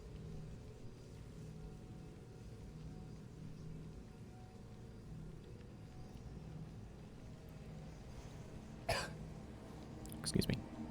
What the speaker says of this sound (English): Suddenly my mouth felt sticky, and coughing was apparently the solution.